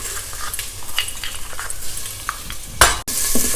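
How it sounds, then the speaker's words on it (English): Crushed masala with cumin seeds and asafoetida sautéing in ghee in a pot for South Indian rasam, a close sizzle mixed with spoon scraping and a sharp clatter toward the end. "Saute it lightly in the ghee."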